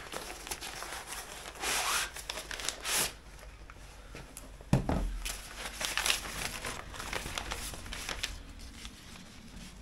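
Plastic bag crinkling and rustling while a parcel is unpacked, close and fairly quiet, coming in irregular bursts of rubbing and crumpling with a brief louder crackle near the middle, no speech.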